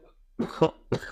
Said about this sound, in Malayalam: ഒന്ന് ചുമച്ചേ